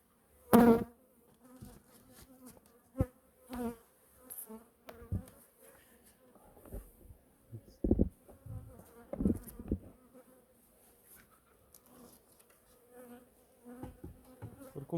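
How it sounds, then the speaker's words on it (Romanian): Honeybees buzz intermittently around the listener, with several loud close passes standing out against a quieter background hum. "Deci se vede albinele că s-au pus pe lucru."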